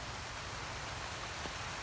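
Heavy rain pours steadily during a bicycle ride through mango groves near riverside temples between Ban Pong and Photharam, a dense, even hiss close around with no talk.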